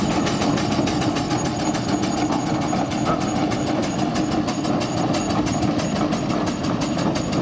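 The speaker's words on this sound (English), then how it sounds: "This again is a very typical Aveling roller." An Aveling steam roller engine chuffs and clanks steadily with a fast mechanical rhythm, loud and close, running continuously with no voices.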